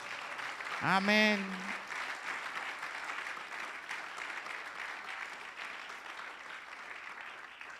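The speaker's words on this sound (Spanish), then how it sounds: "¿Cuántos dan un fuerte aplauso al Señor?" A church congregation applauds in a steady, dense wash of clapping that runs throughout, while one voice calls out briefly near the start.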